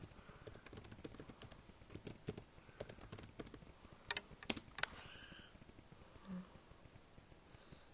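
A computer keyboard being typed on to enter a password, a quick run of clustered key clicks at close range with short pauses between bursts, then quieter at the end.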